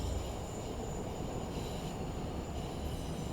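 A passing train in Train Sim World 5 on a new UK route around Manchester rumbles steadily at moderate distance, a continuous broadband roll of wheels on rails with faint high squeal, no voices.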